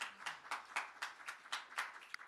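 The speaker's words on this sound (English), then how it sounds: "Come on, give the Lord a hand clap praise." Congregation at a celebration-of-life church service clapping hands in praise, a steady rhythmic beat of about four claps per second, moderately close, with no talking over it.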